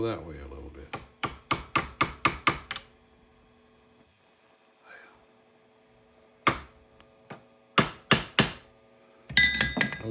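A hammer tapping a prick punch into metal, sharp ringing strikes in quick bursts of five or six, then a pause, then further separated taps and a final cluster, close and loud.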